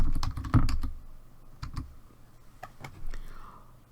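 Typing on a computer keyboard, a quick cluster of close light key clicks at first, then sparse individual taps trailing off against a quiet background.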